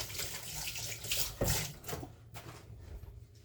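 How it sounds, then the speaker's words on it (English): Hands being washed under a running kitchen tap: a steady close rush of water with splashy bursts and squishing as hands move through it, then tapering off toward the end, with no talk. "Just wash my hands."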